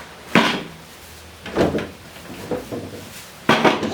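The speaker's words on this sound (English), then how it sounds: "You're going to want to remove the drawers" Wooden drawers are pulled out of a nightstand before painting, giving a few close scraping, sliding rumbles with bumps and knocks, separated by short pauses.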